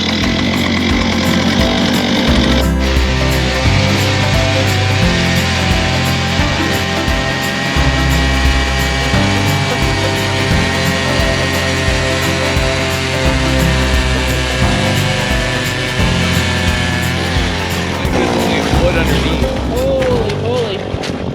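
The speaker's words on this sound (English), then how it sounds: "And we're just going to get our holes drilled." A powered ice auger drills fishing holes through about 22 inches of lake ice in Ontario, with a steady loud engine drone running throughout and voices faintly audible behind it.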